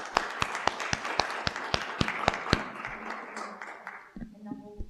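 Applause at a Bastrop city council meeting for Kathy Danielson and her team: a few seconds of steady hand clapping from the room with sharp individual claps standing out, fading toward the end as voices start to come in.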